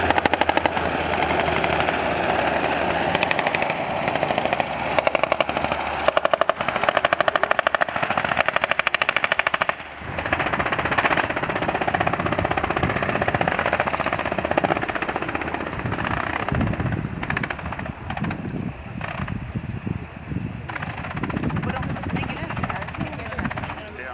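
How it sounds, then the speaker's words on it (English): Two Utah National Guard military helicopters drop soldiers during a training exercise, with a loud rotor roar that runs throughout and rapid bursts of simulated machine-gun fire crackling over it. "This is how two helicopters would drop soldiers into an active battlefield."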